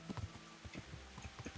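Horse hooves clip-clopping in the Kingdom Come: Deliverance video game, a quiet, steady run of soft hoof beats with no talk over them.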